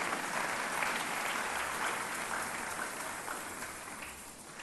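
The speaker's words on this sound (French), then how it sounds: "Nous acclamons nos amis, s'il vous plaît, alors qu'ils descendent." A church congregation applauds in sustained, even clapping that fills the room from start to finish, with a faint murmur of voices beneath.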